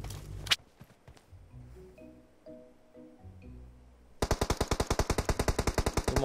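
Rapid automatic gunfire in a shooter video game: after a few scattered shots and quieter game sounds, a loud, fast, evenly spaced burst of machine gun fire runs through the final seconds.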